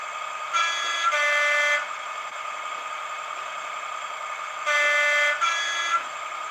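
A model locomotive's two-tone horn blasts sound twice, each a short pair of toots, over a steady engine hum, loud and close.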